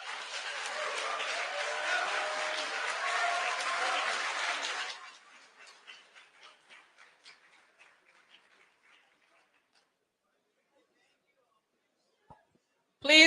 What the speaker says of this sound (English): Please control the clapping.